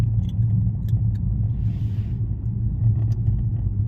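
Steady low rumble of a car engine and road noise from inside a moving vehicle, continuous and fairly loud, with no talking.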